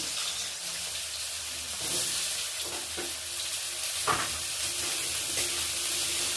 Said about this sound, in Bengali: কপির আলুগুলো এবার ভেজে নিচ্ছি।